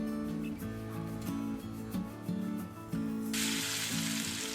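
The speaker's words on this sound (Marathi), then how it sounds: "त्यात टाकायचं जिरे मोहरी आणि कढीपत्ता आणि त्याला छान फ्राय करून घ्यायचं" Cumin, mustard seeds and curry leaves fry in hot oil in a pan, a steady close sizzle that swells into a brighter hiss near the end, heard over a constant background hum with no talking.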